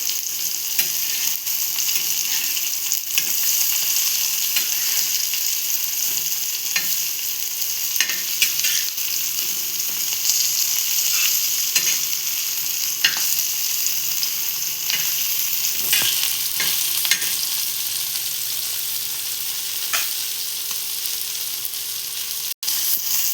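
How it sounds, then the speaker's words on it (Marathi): Fish frying in a pan, a long, steady, close sizzle with occasional sharper crackles and scraping as the pieces are turned over. "आता आपण इथे मच्छी फ्राय करून घेऊया. आता आपण इथे पलटी मारून घेतोय."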